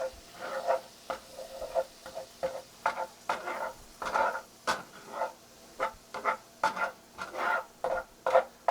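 Alcohol sizzling and burning off in a pan for shrimp scampi, a close bubbling hiss broken into regular bursts by rhythmic stirring.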